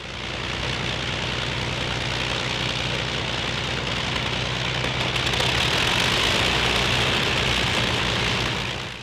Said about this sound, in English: revving the Merlin engines, take her for taxi runs on the grass runway